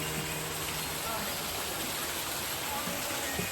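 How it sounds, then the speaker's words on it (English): A waterfall at Mount Banahaw roars as a steady, loud, broadband wash that fills the whole clip without pause. "May waterfalls daw."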